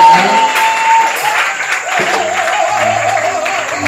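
Church congregation applauding loudly, with a sustained organ or keyboard tone and music playing underneath the clapping.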